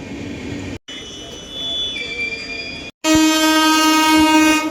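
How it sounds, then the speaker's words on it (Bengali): Close rumble and rattle of the Agartala–Deoghar–Guwahati Express passenger train going by in India, with sustained horn-like tones cutting through, loud and continuous, interrupted by brief gaps. "আগারতলা দেওঘর গুয়াহাটি এক্সপ্রেস।"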